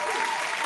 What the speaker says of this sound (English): Some excellent round of applause for Ludmilla.